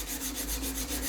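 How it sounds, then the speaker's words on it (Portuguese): A steel knife blade is sanded by hand diagonally with sandpaper, fast steady back-and-forth rasping strokes, close and continuous. "Eu vou lixar nessa posição aqui"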